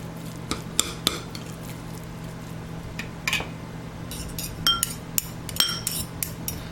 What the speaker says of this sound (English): now I'm just going to take my spoon here and mix this together